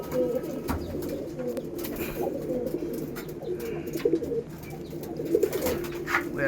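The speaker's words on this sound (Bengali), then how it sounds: "পালসার পায়রা আছে ওপরে একদম বসে আছে, এটা পালসার" Pulsar pigeons sitting up high coo in a steady, continuous low murmur, with several overlapping birds close by and a few brief louder calls rising above the flock's drone.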